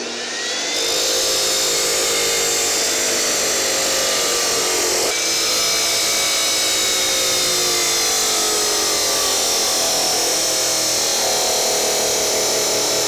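A power cutter slices the deformed, flared end off the peen of a steel blacksmithing hammer, a loud, unbroken high-pitched grinding whine with a slight change in tone midway, running steadily for over twelve seconds.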